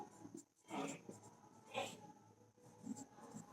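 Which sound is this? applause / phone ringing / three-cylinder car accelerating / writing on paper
writing on paper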